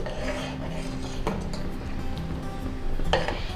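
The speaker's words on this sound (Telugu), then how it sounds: "కొంచెం మరగడం స్టార్ట్ అయ్యే వరకు కలుపుతూనే ఉండాలి." Ragi malt being stirred steadily in a pot on the stove, a continuous scraping rub of spoon against the pot with a few light clinks, close and alone.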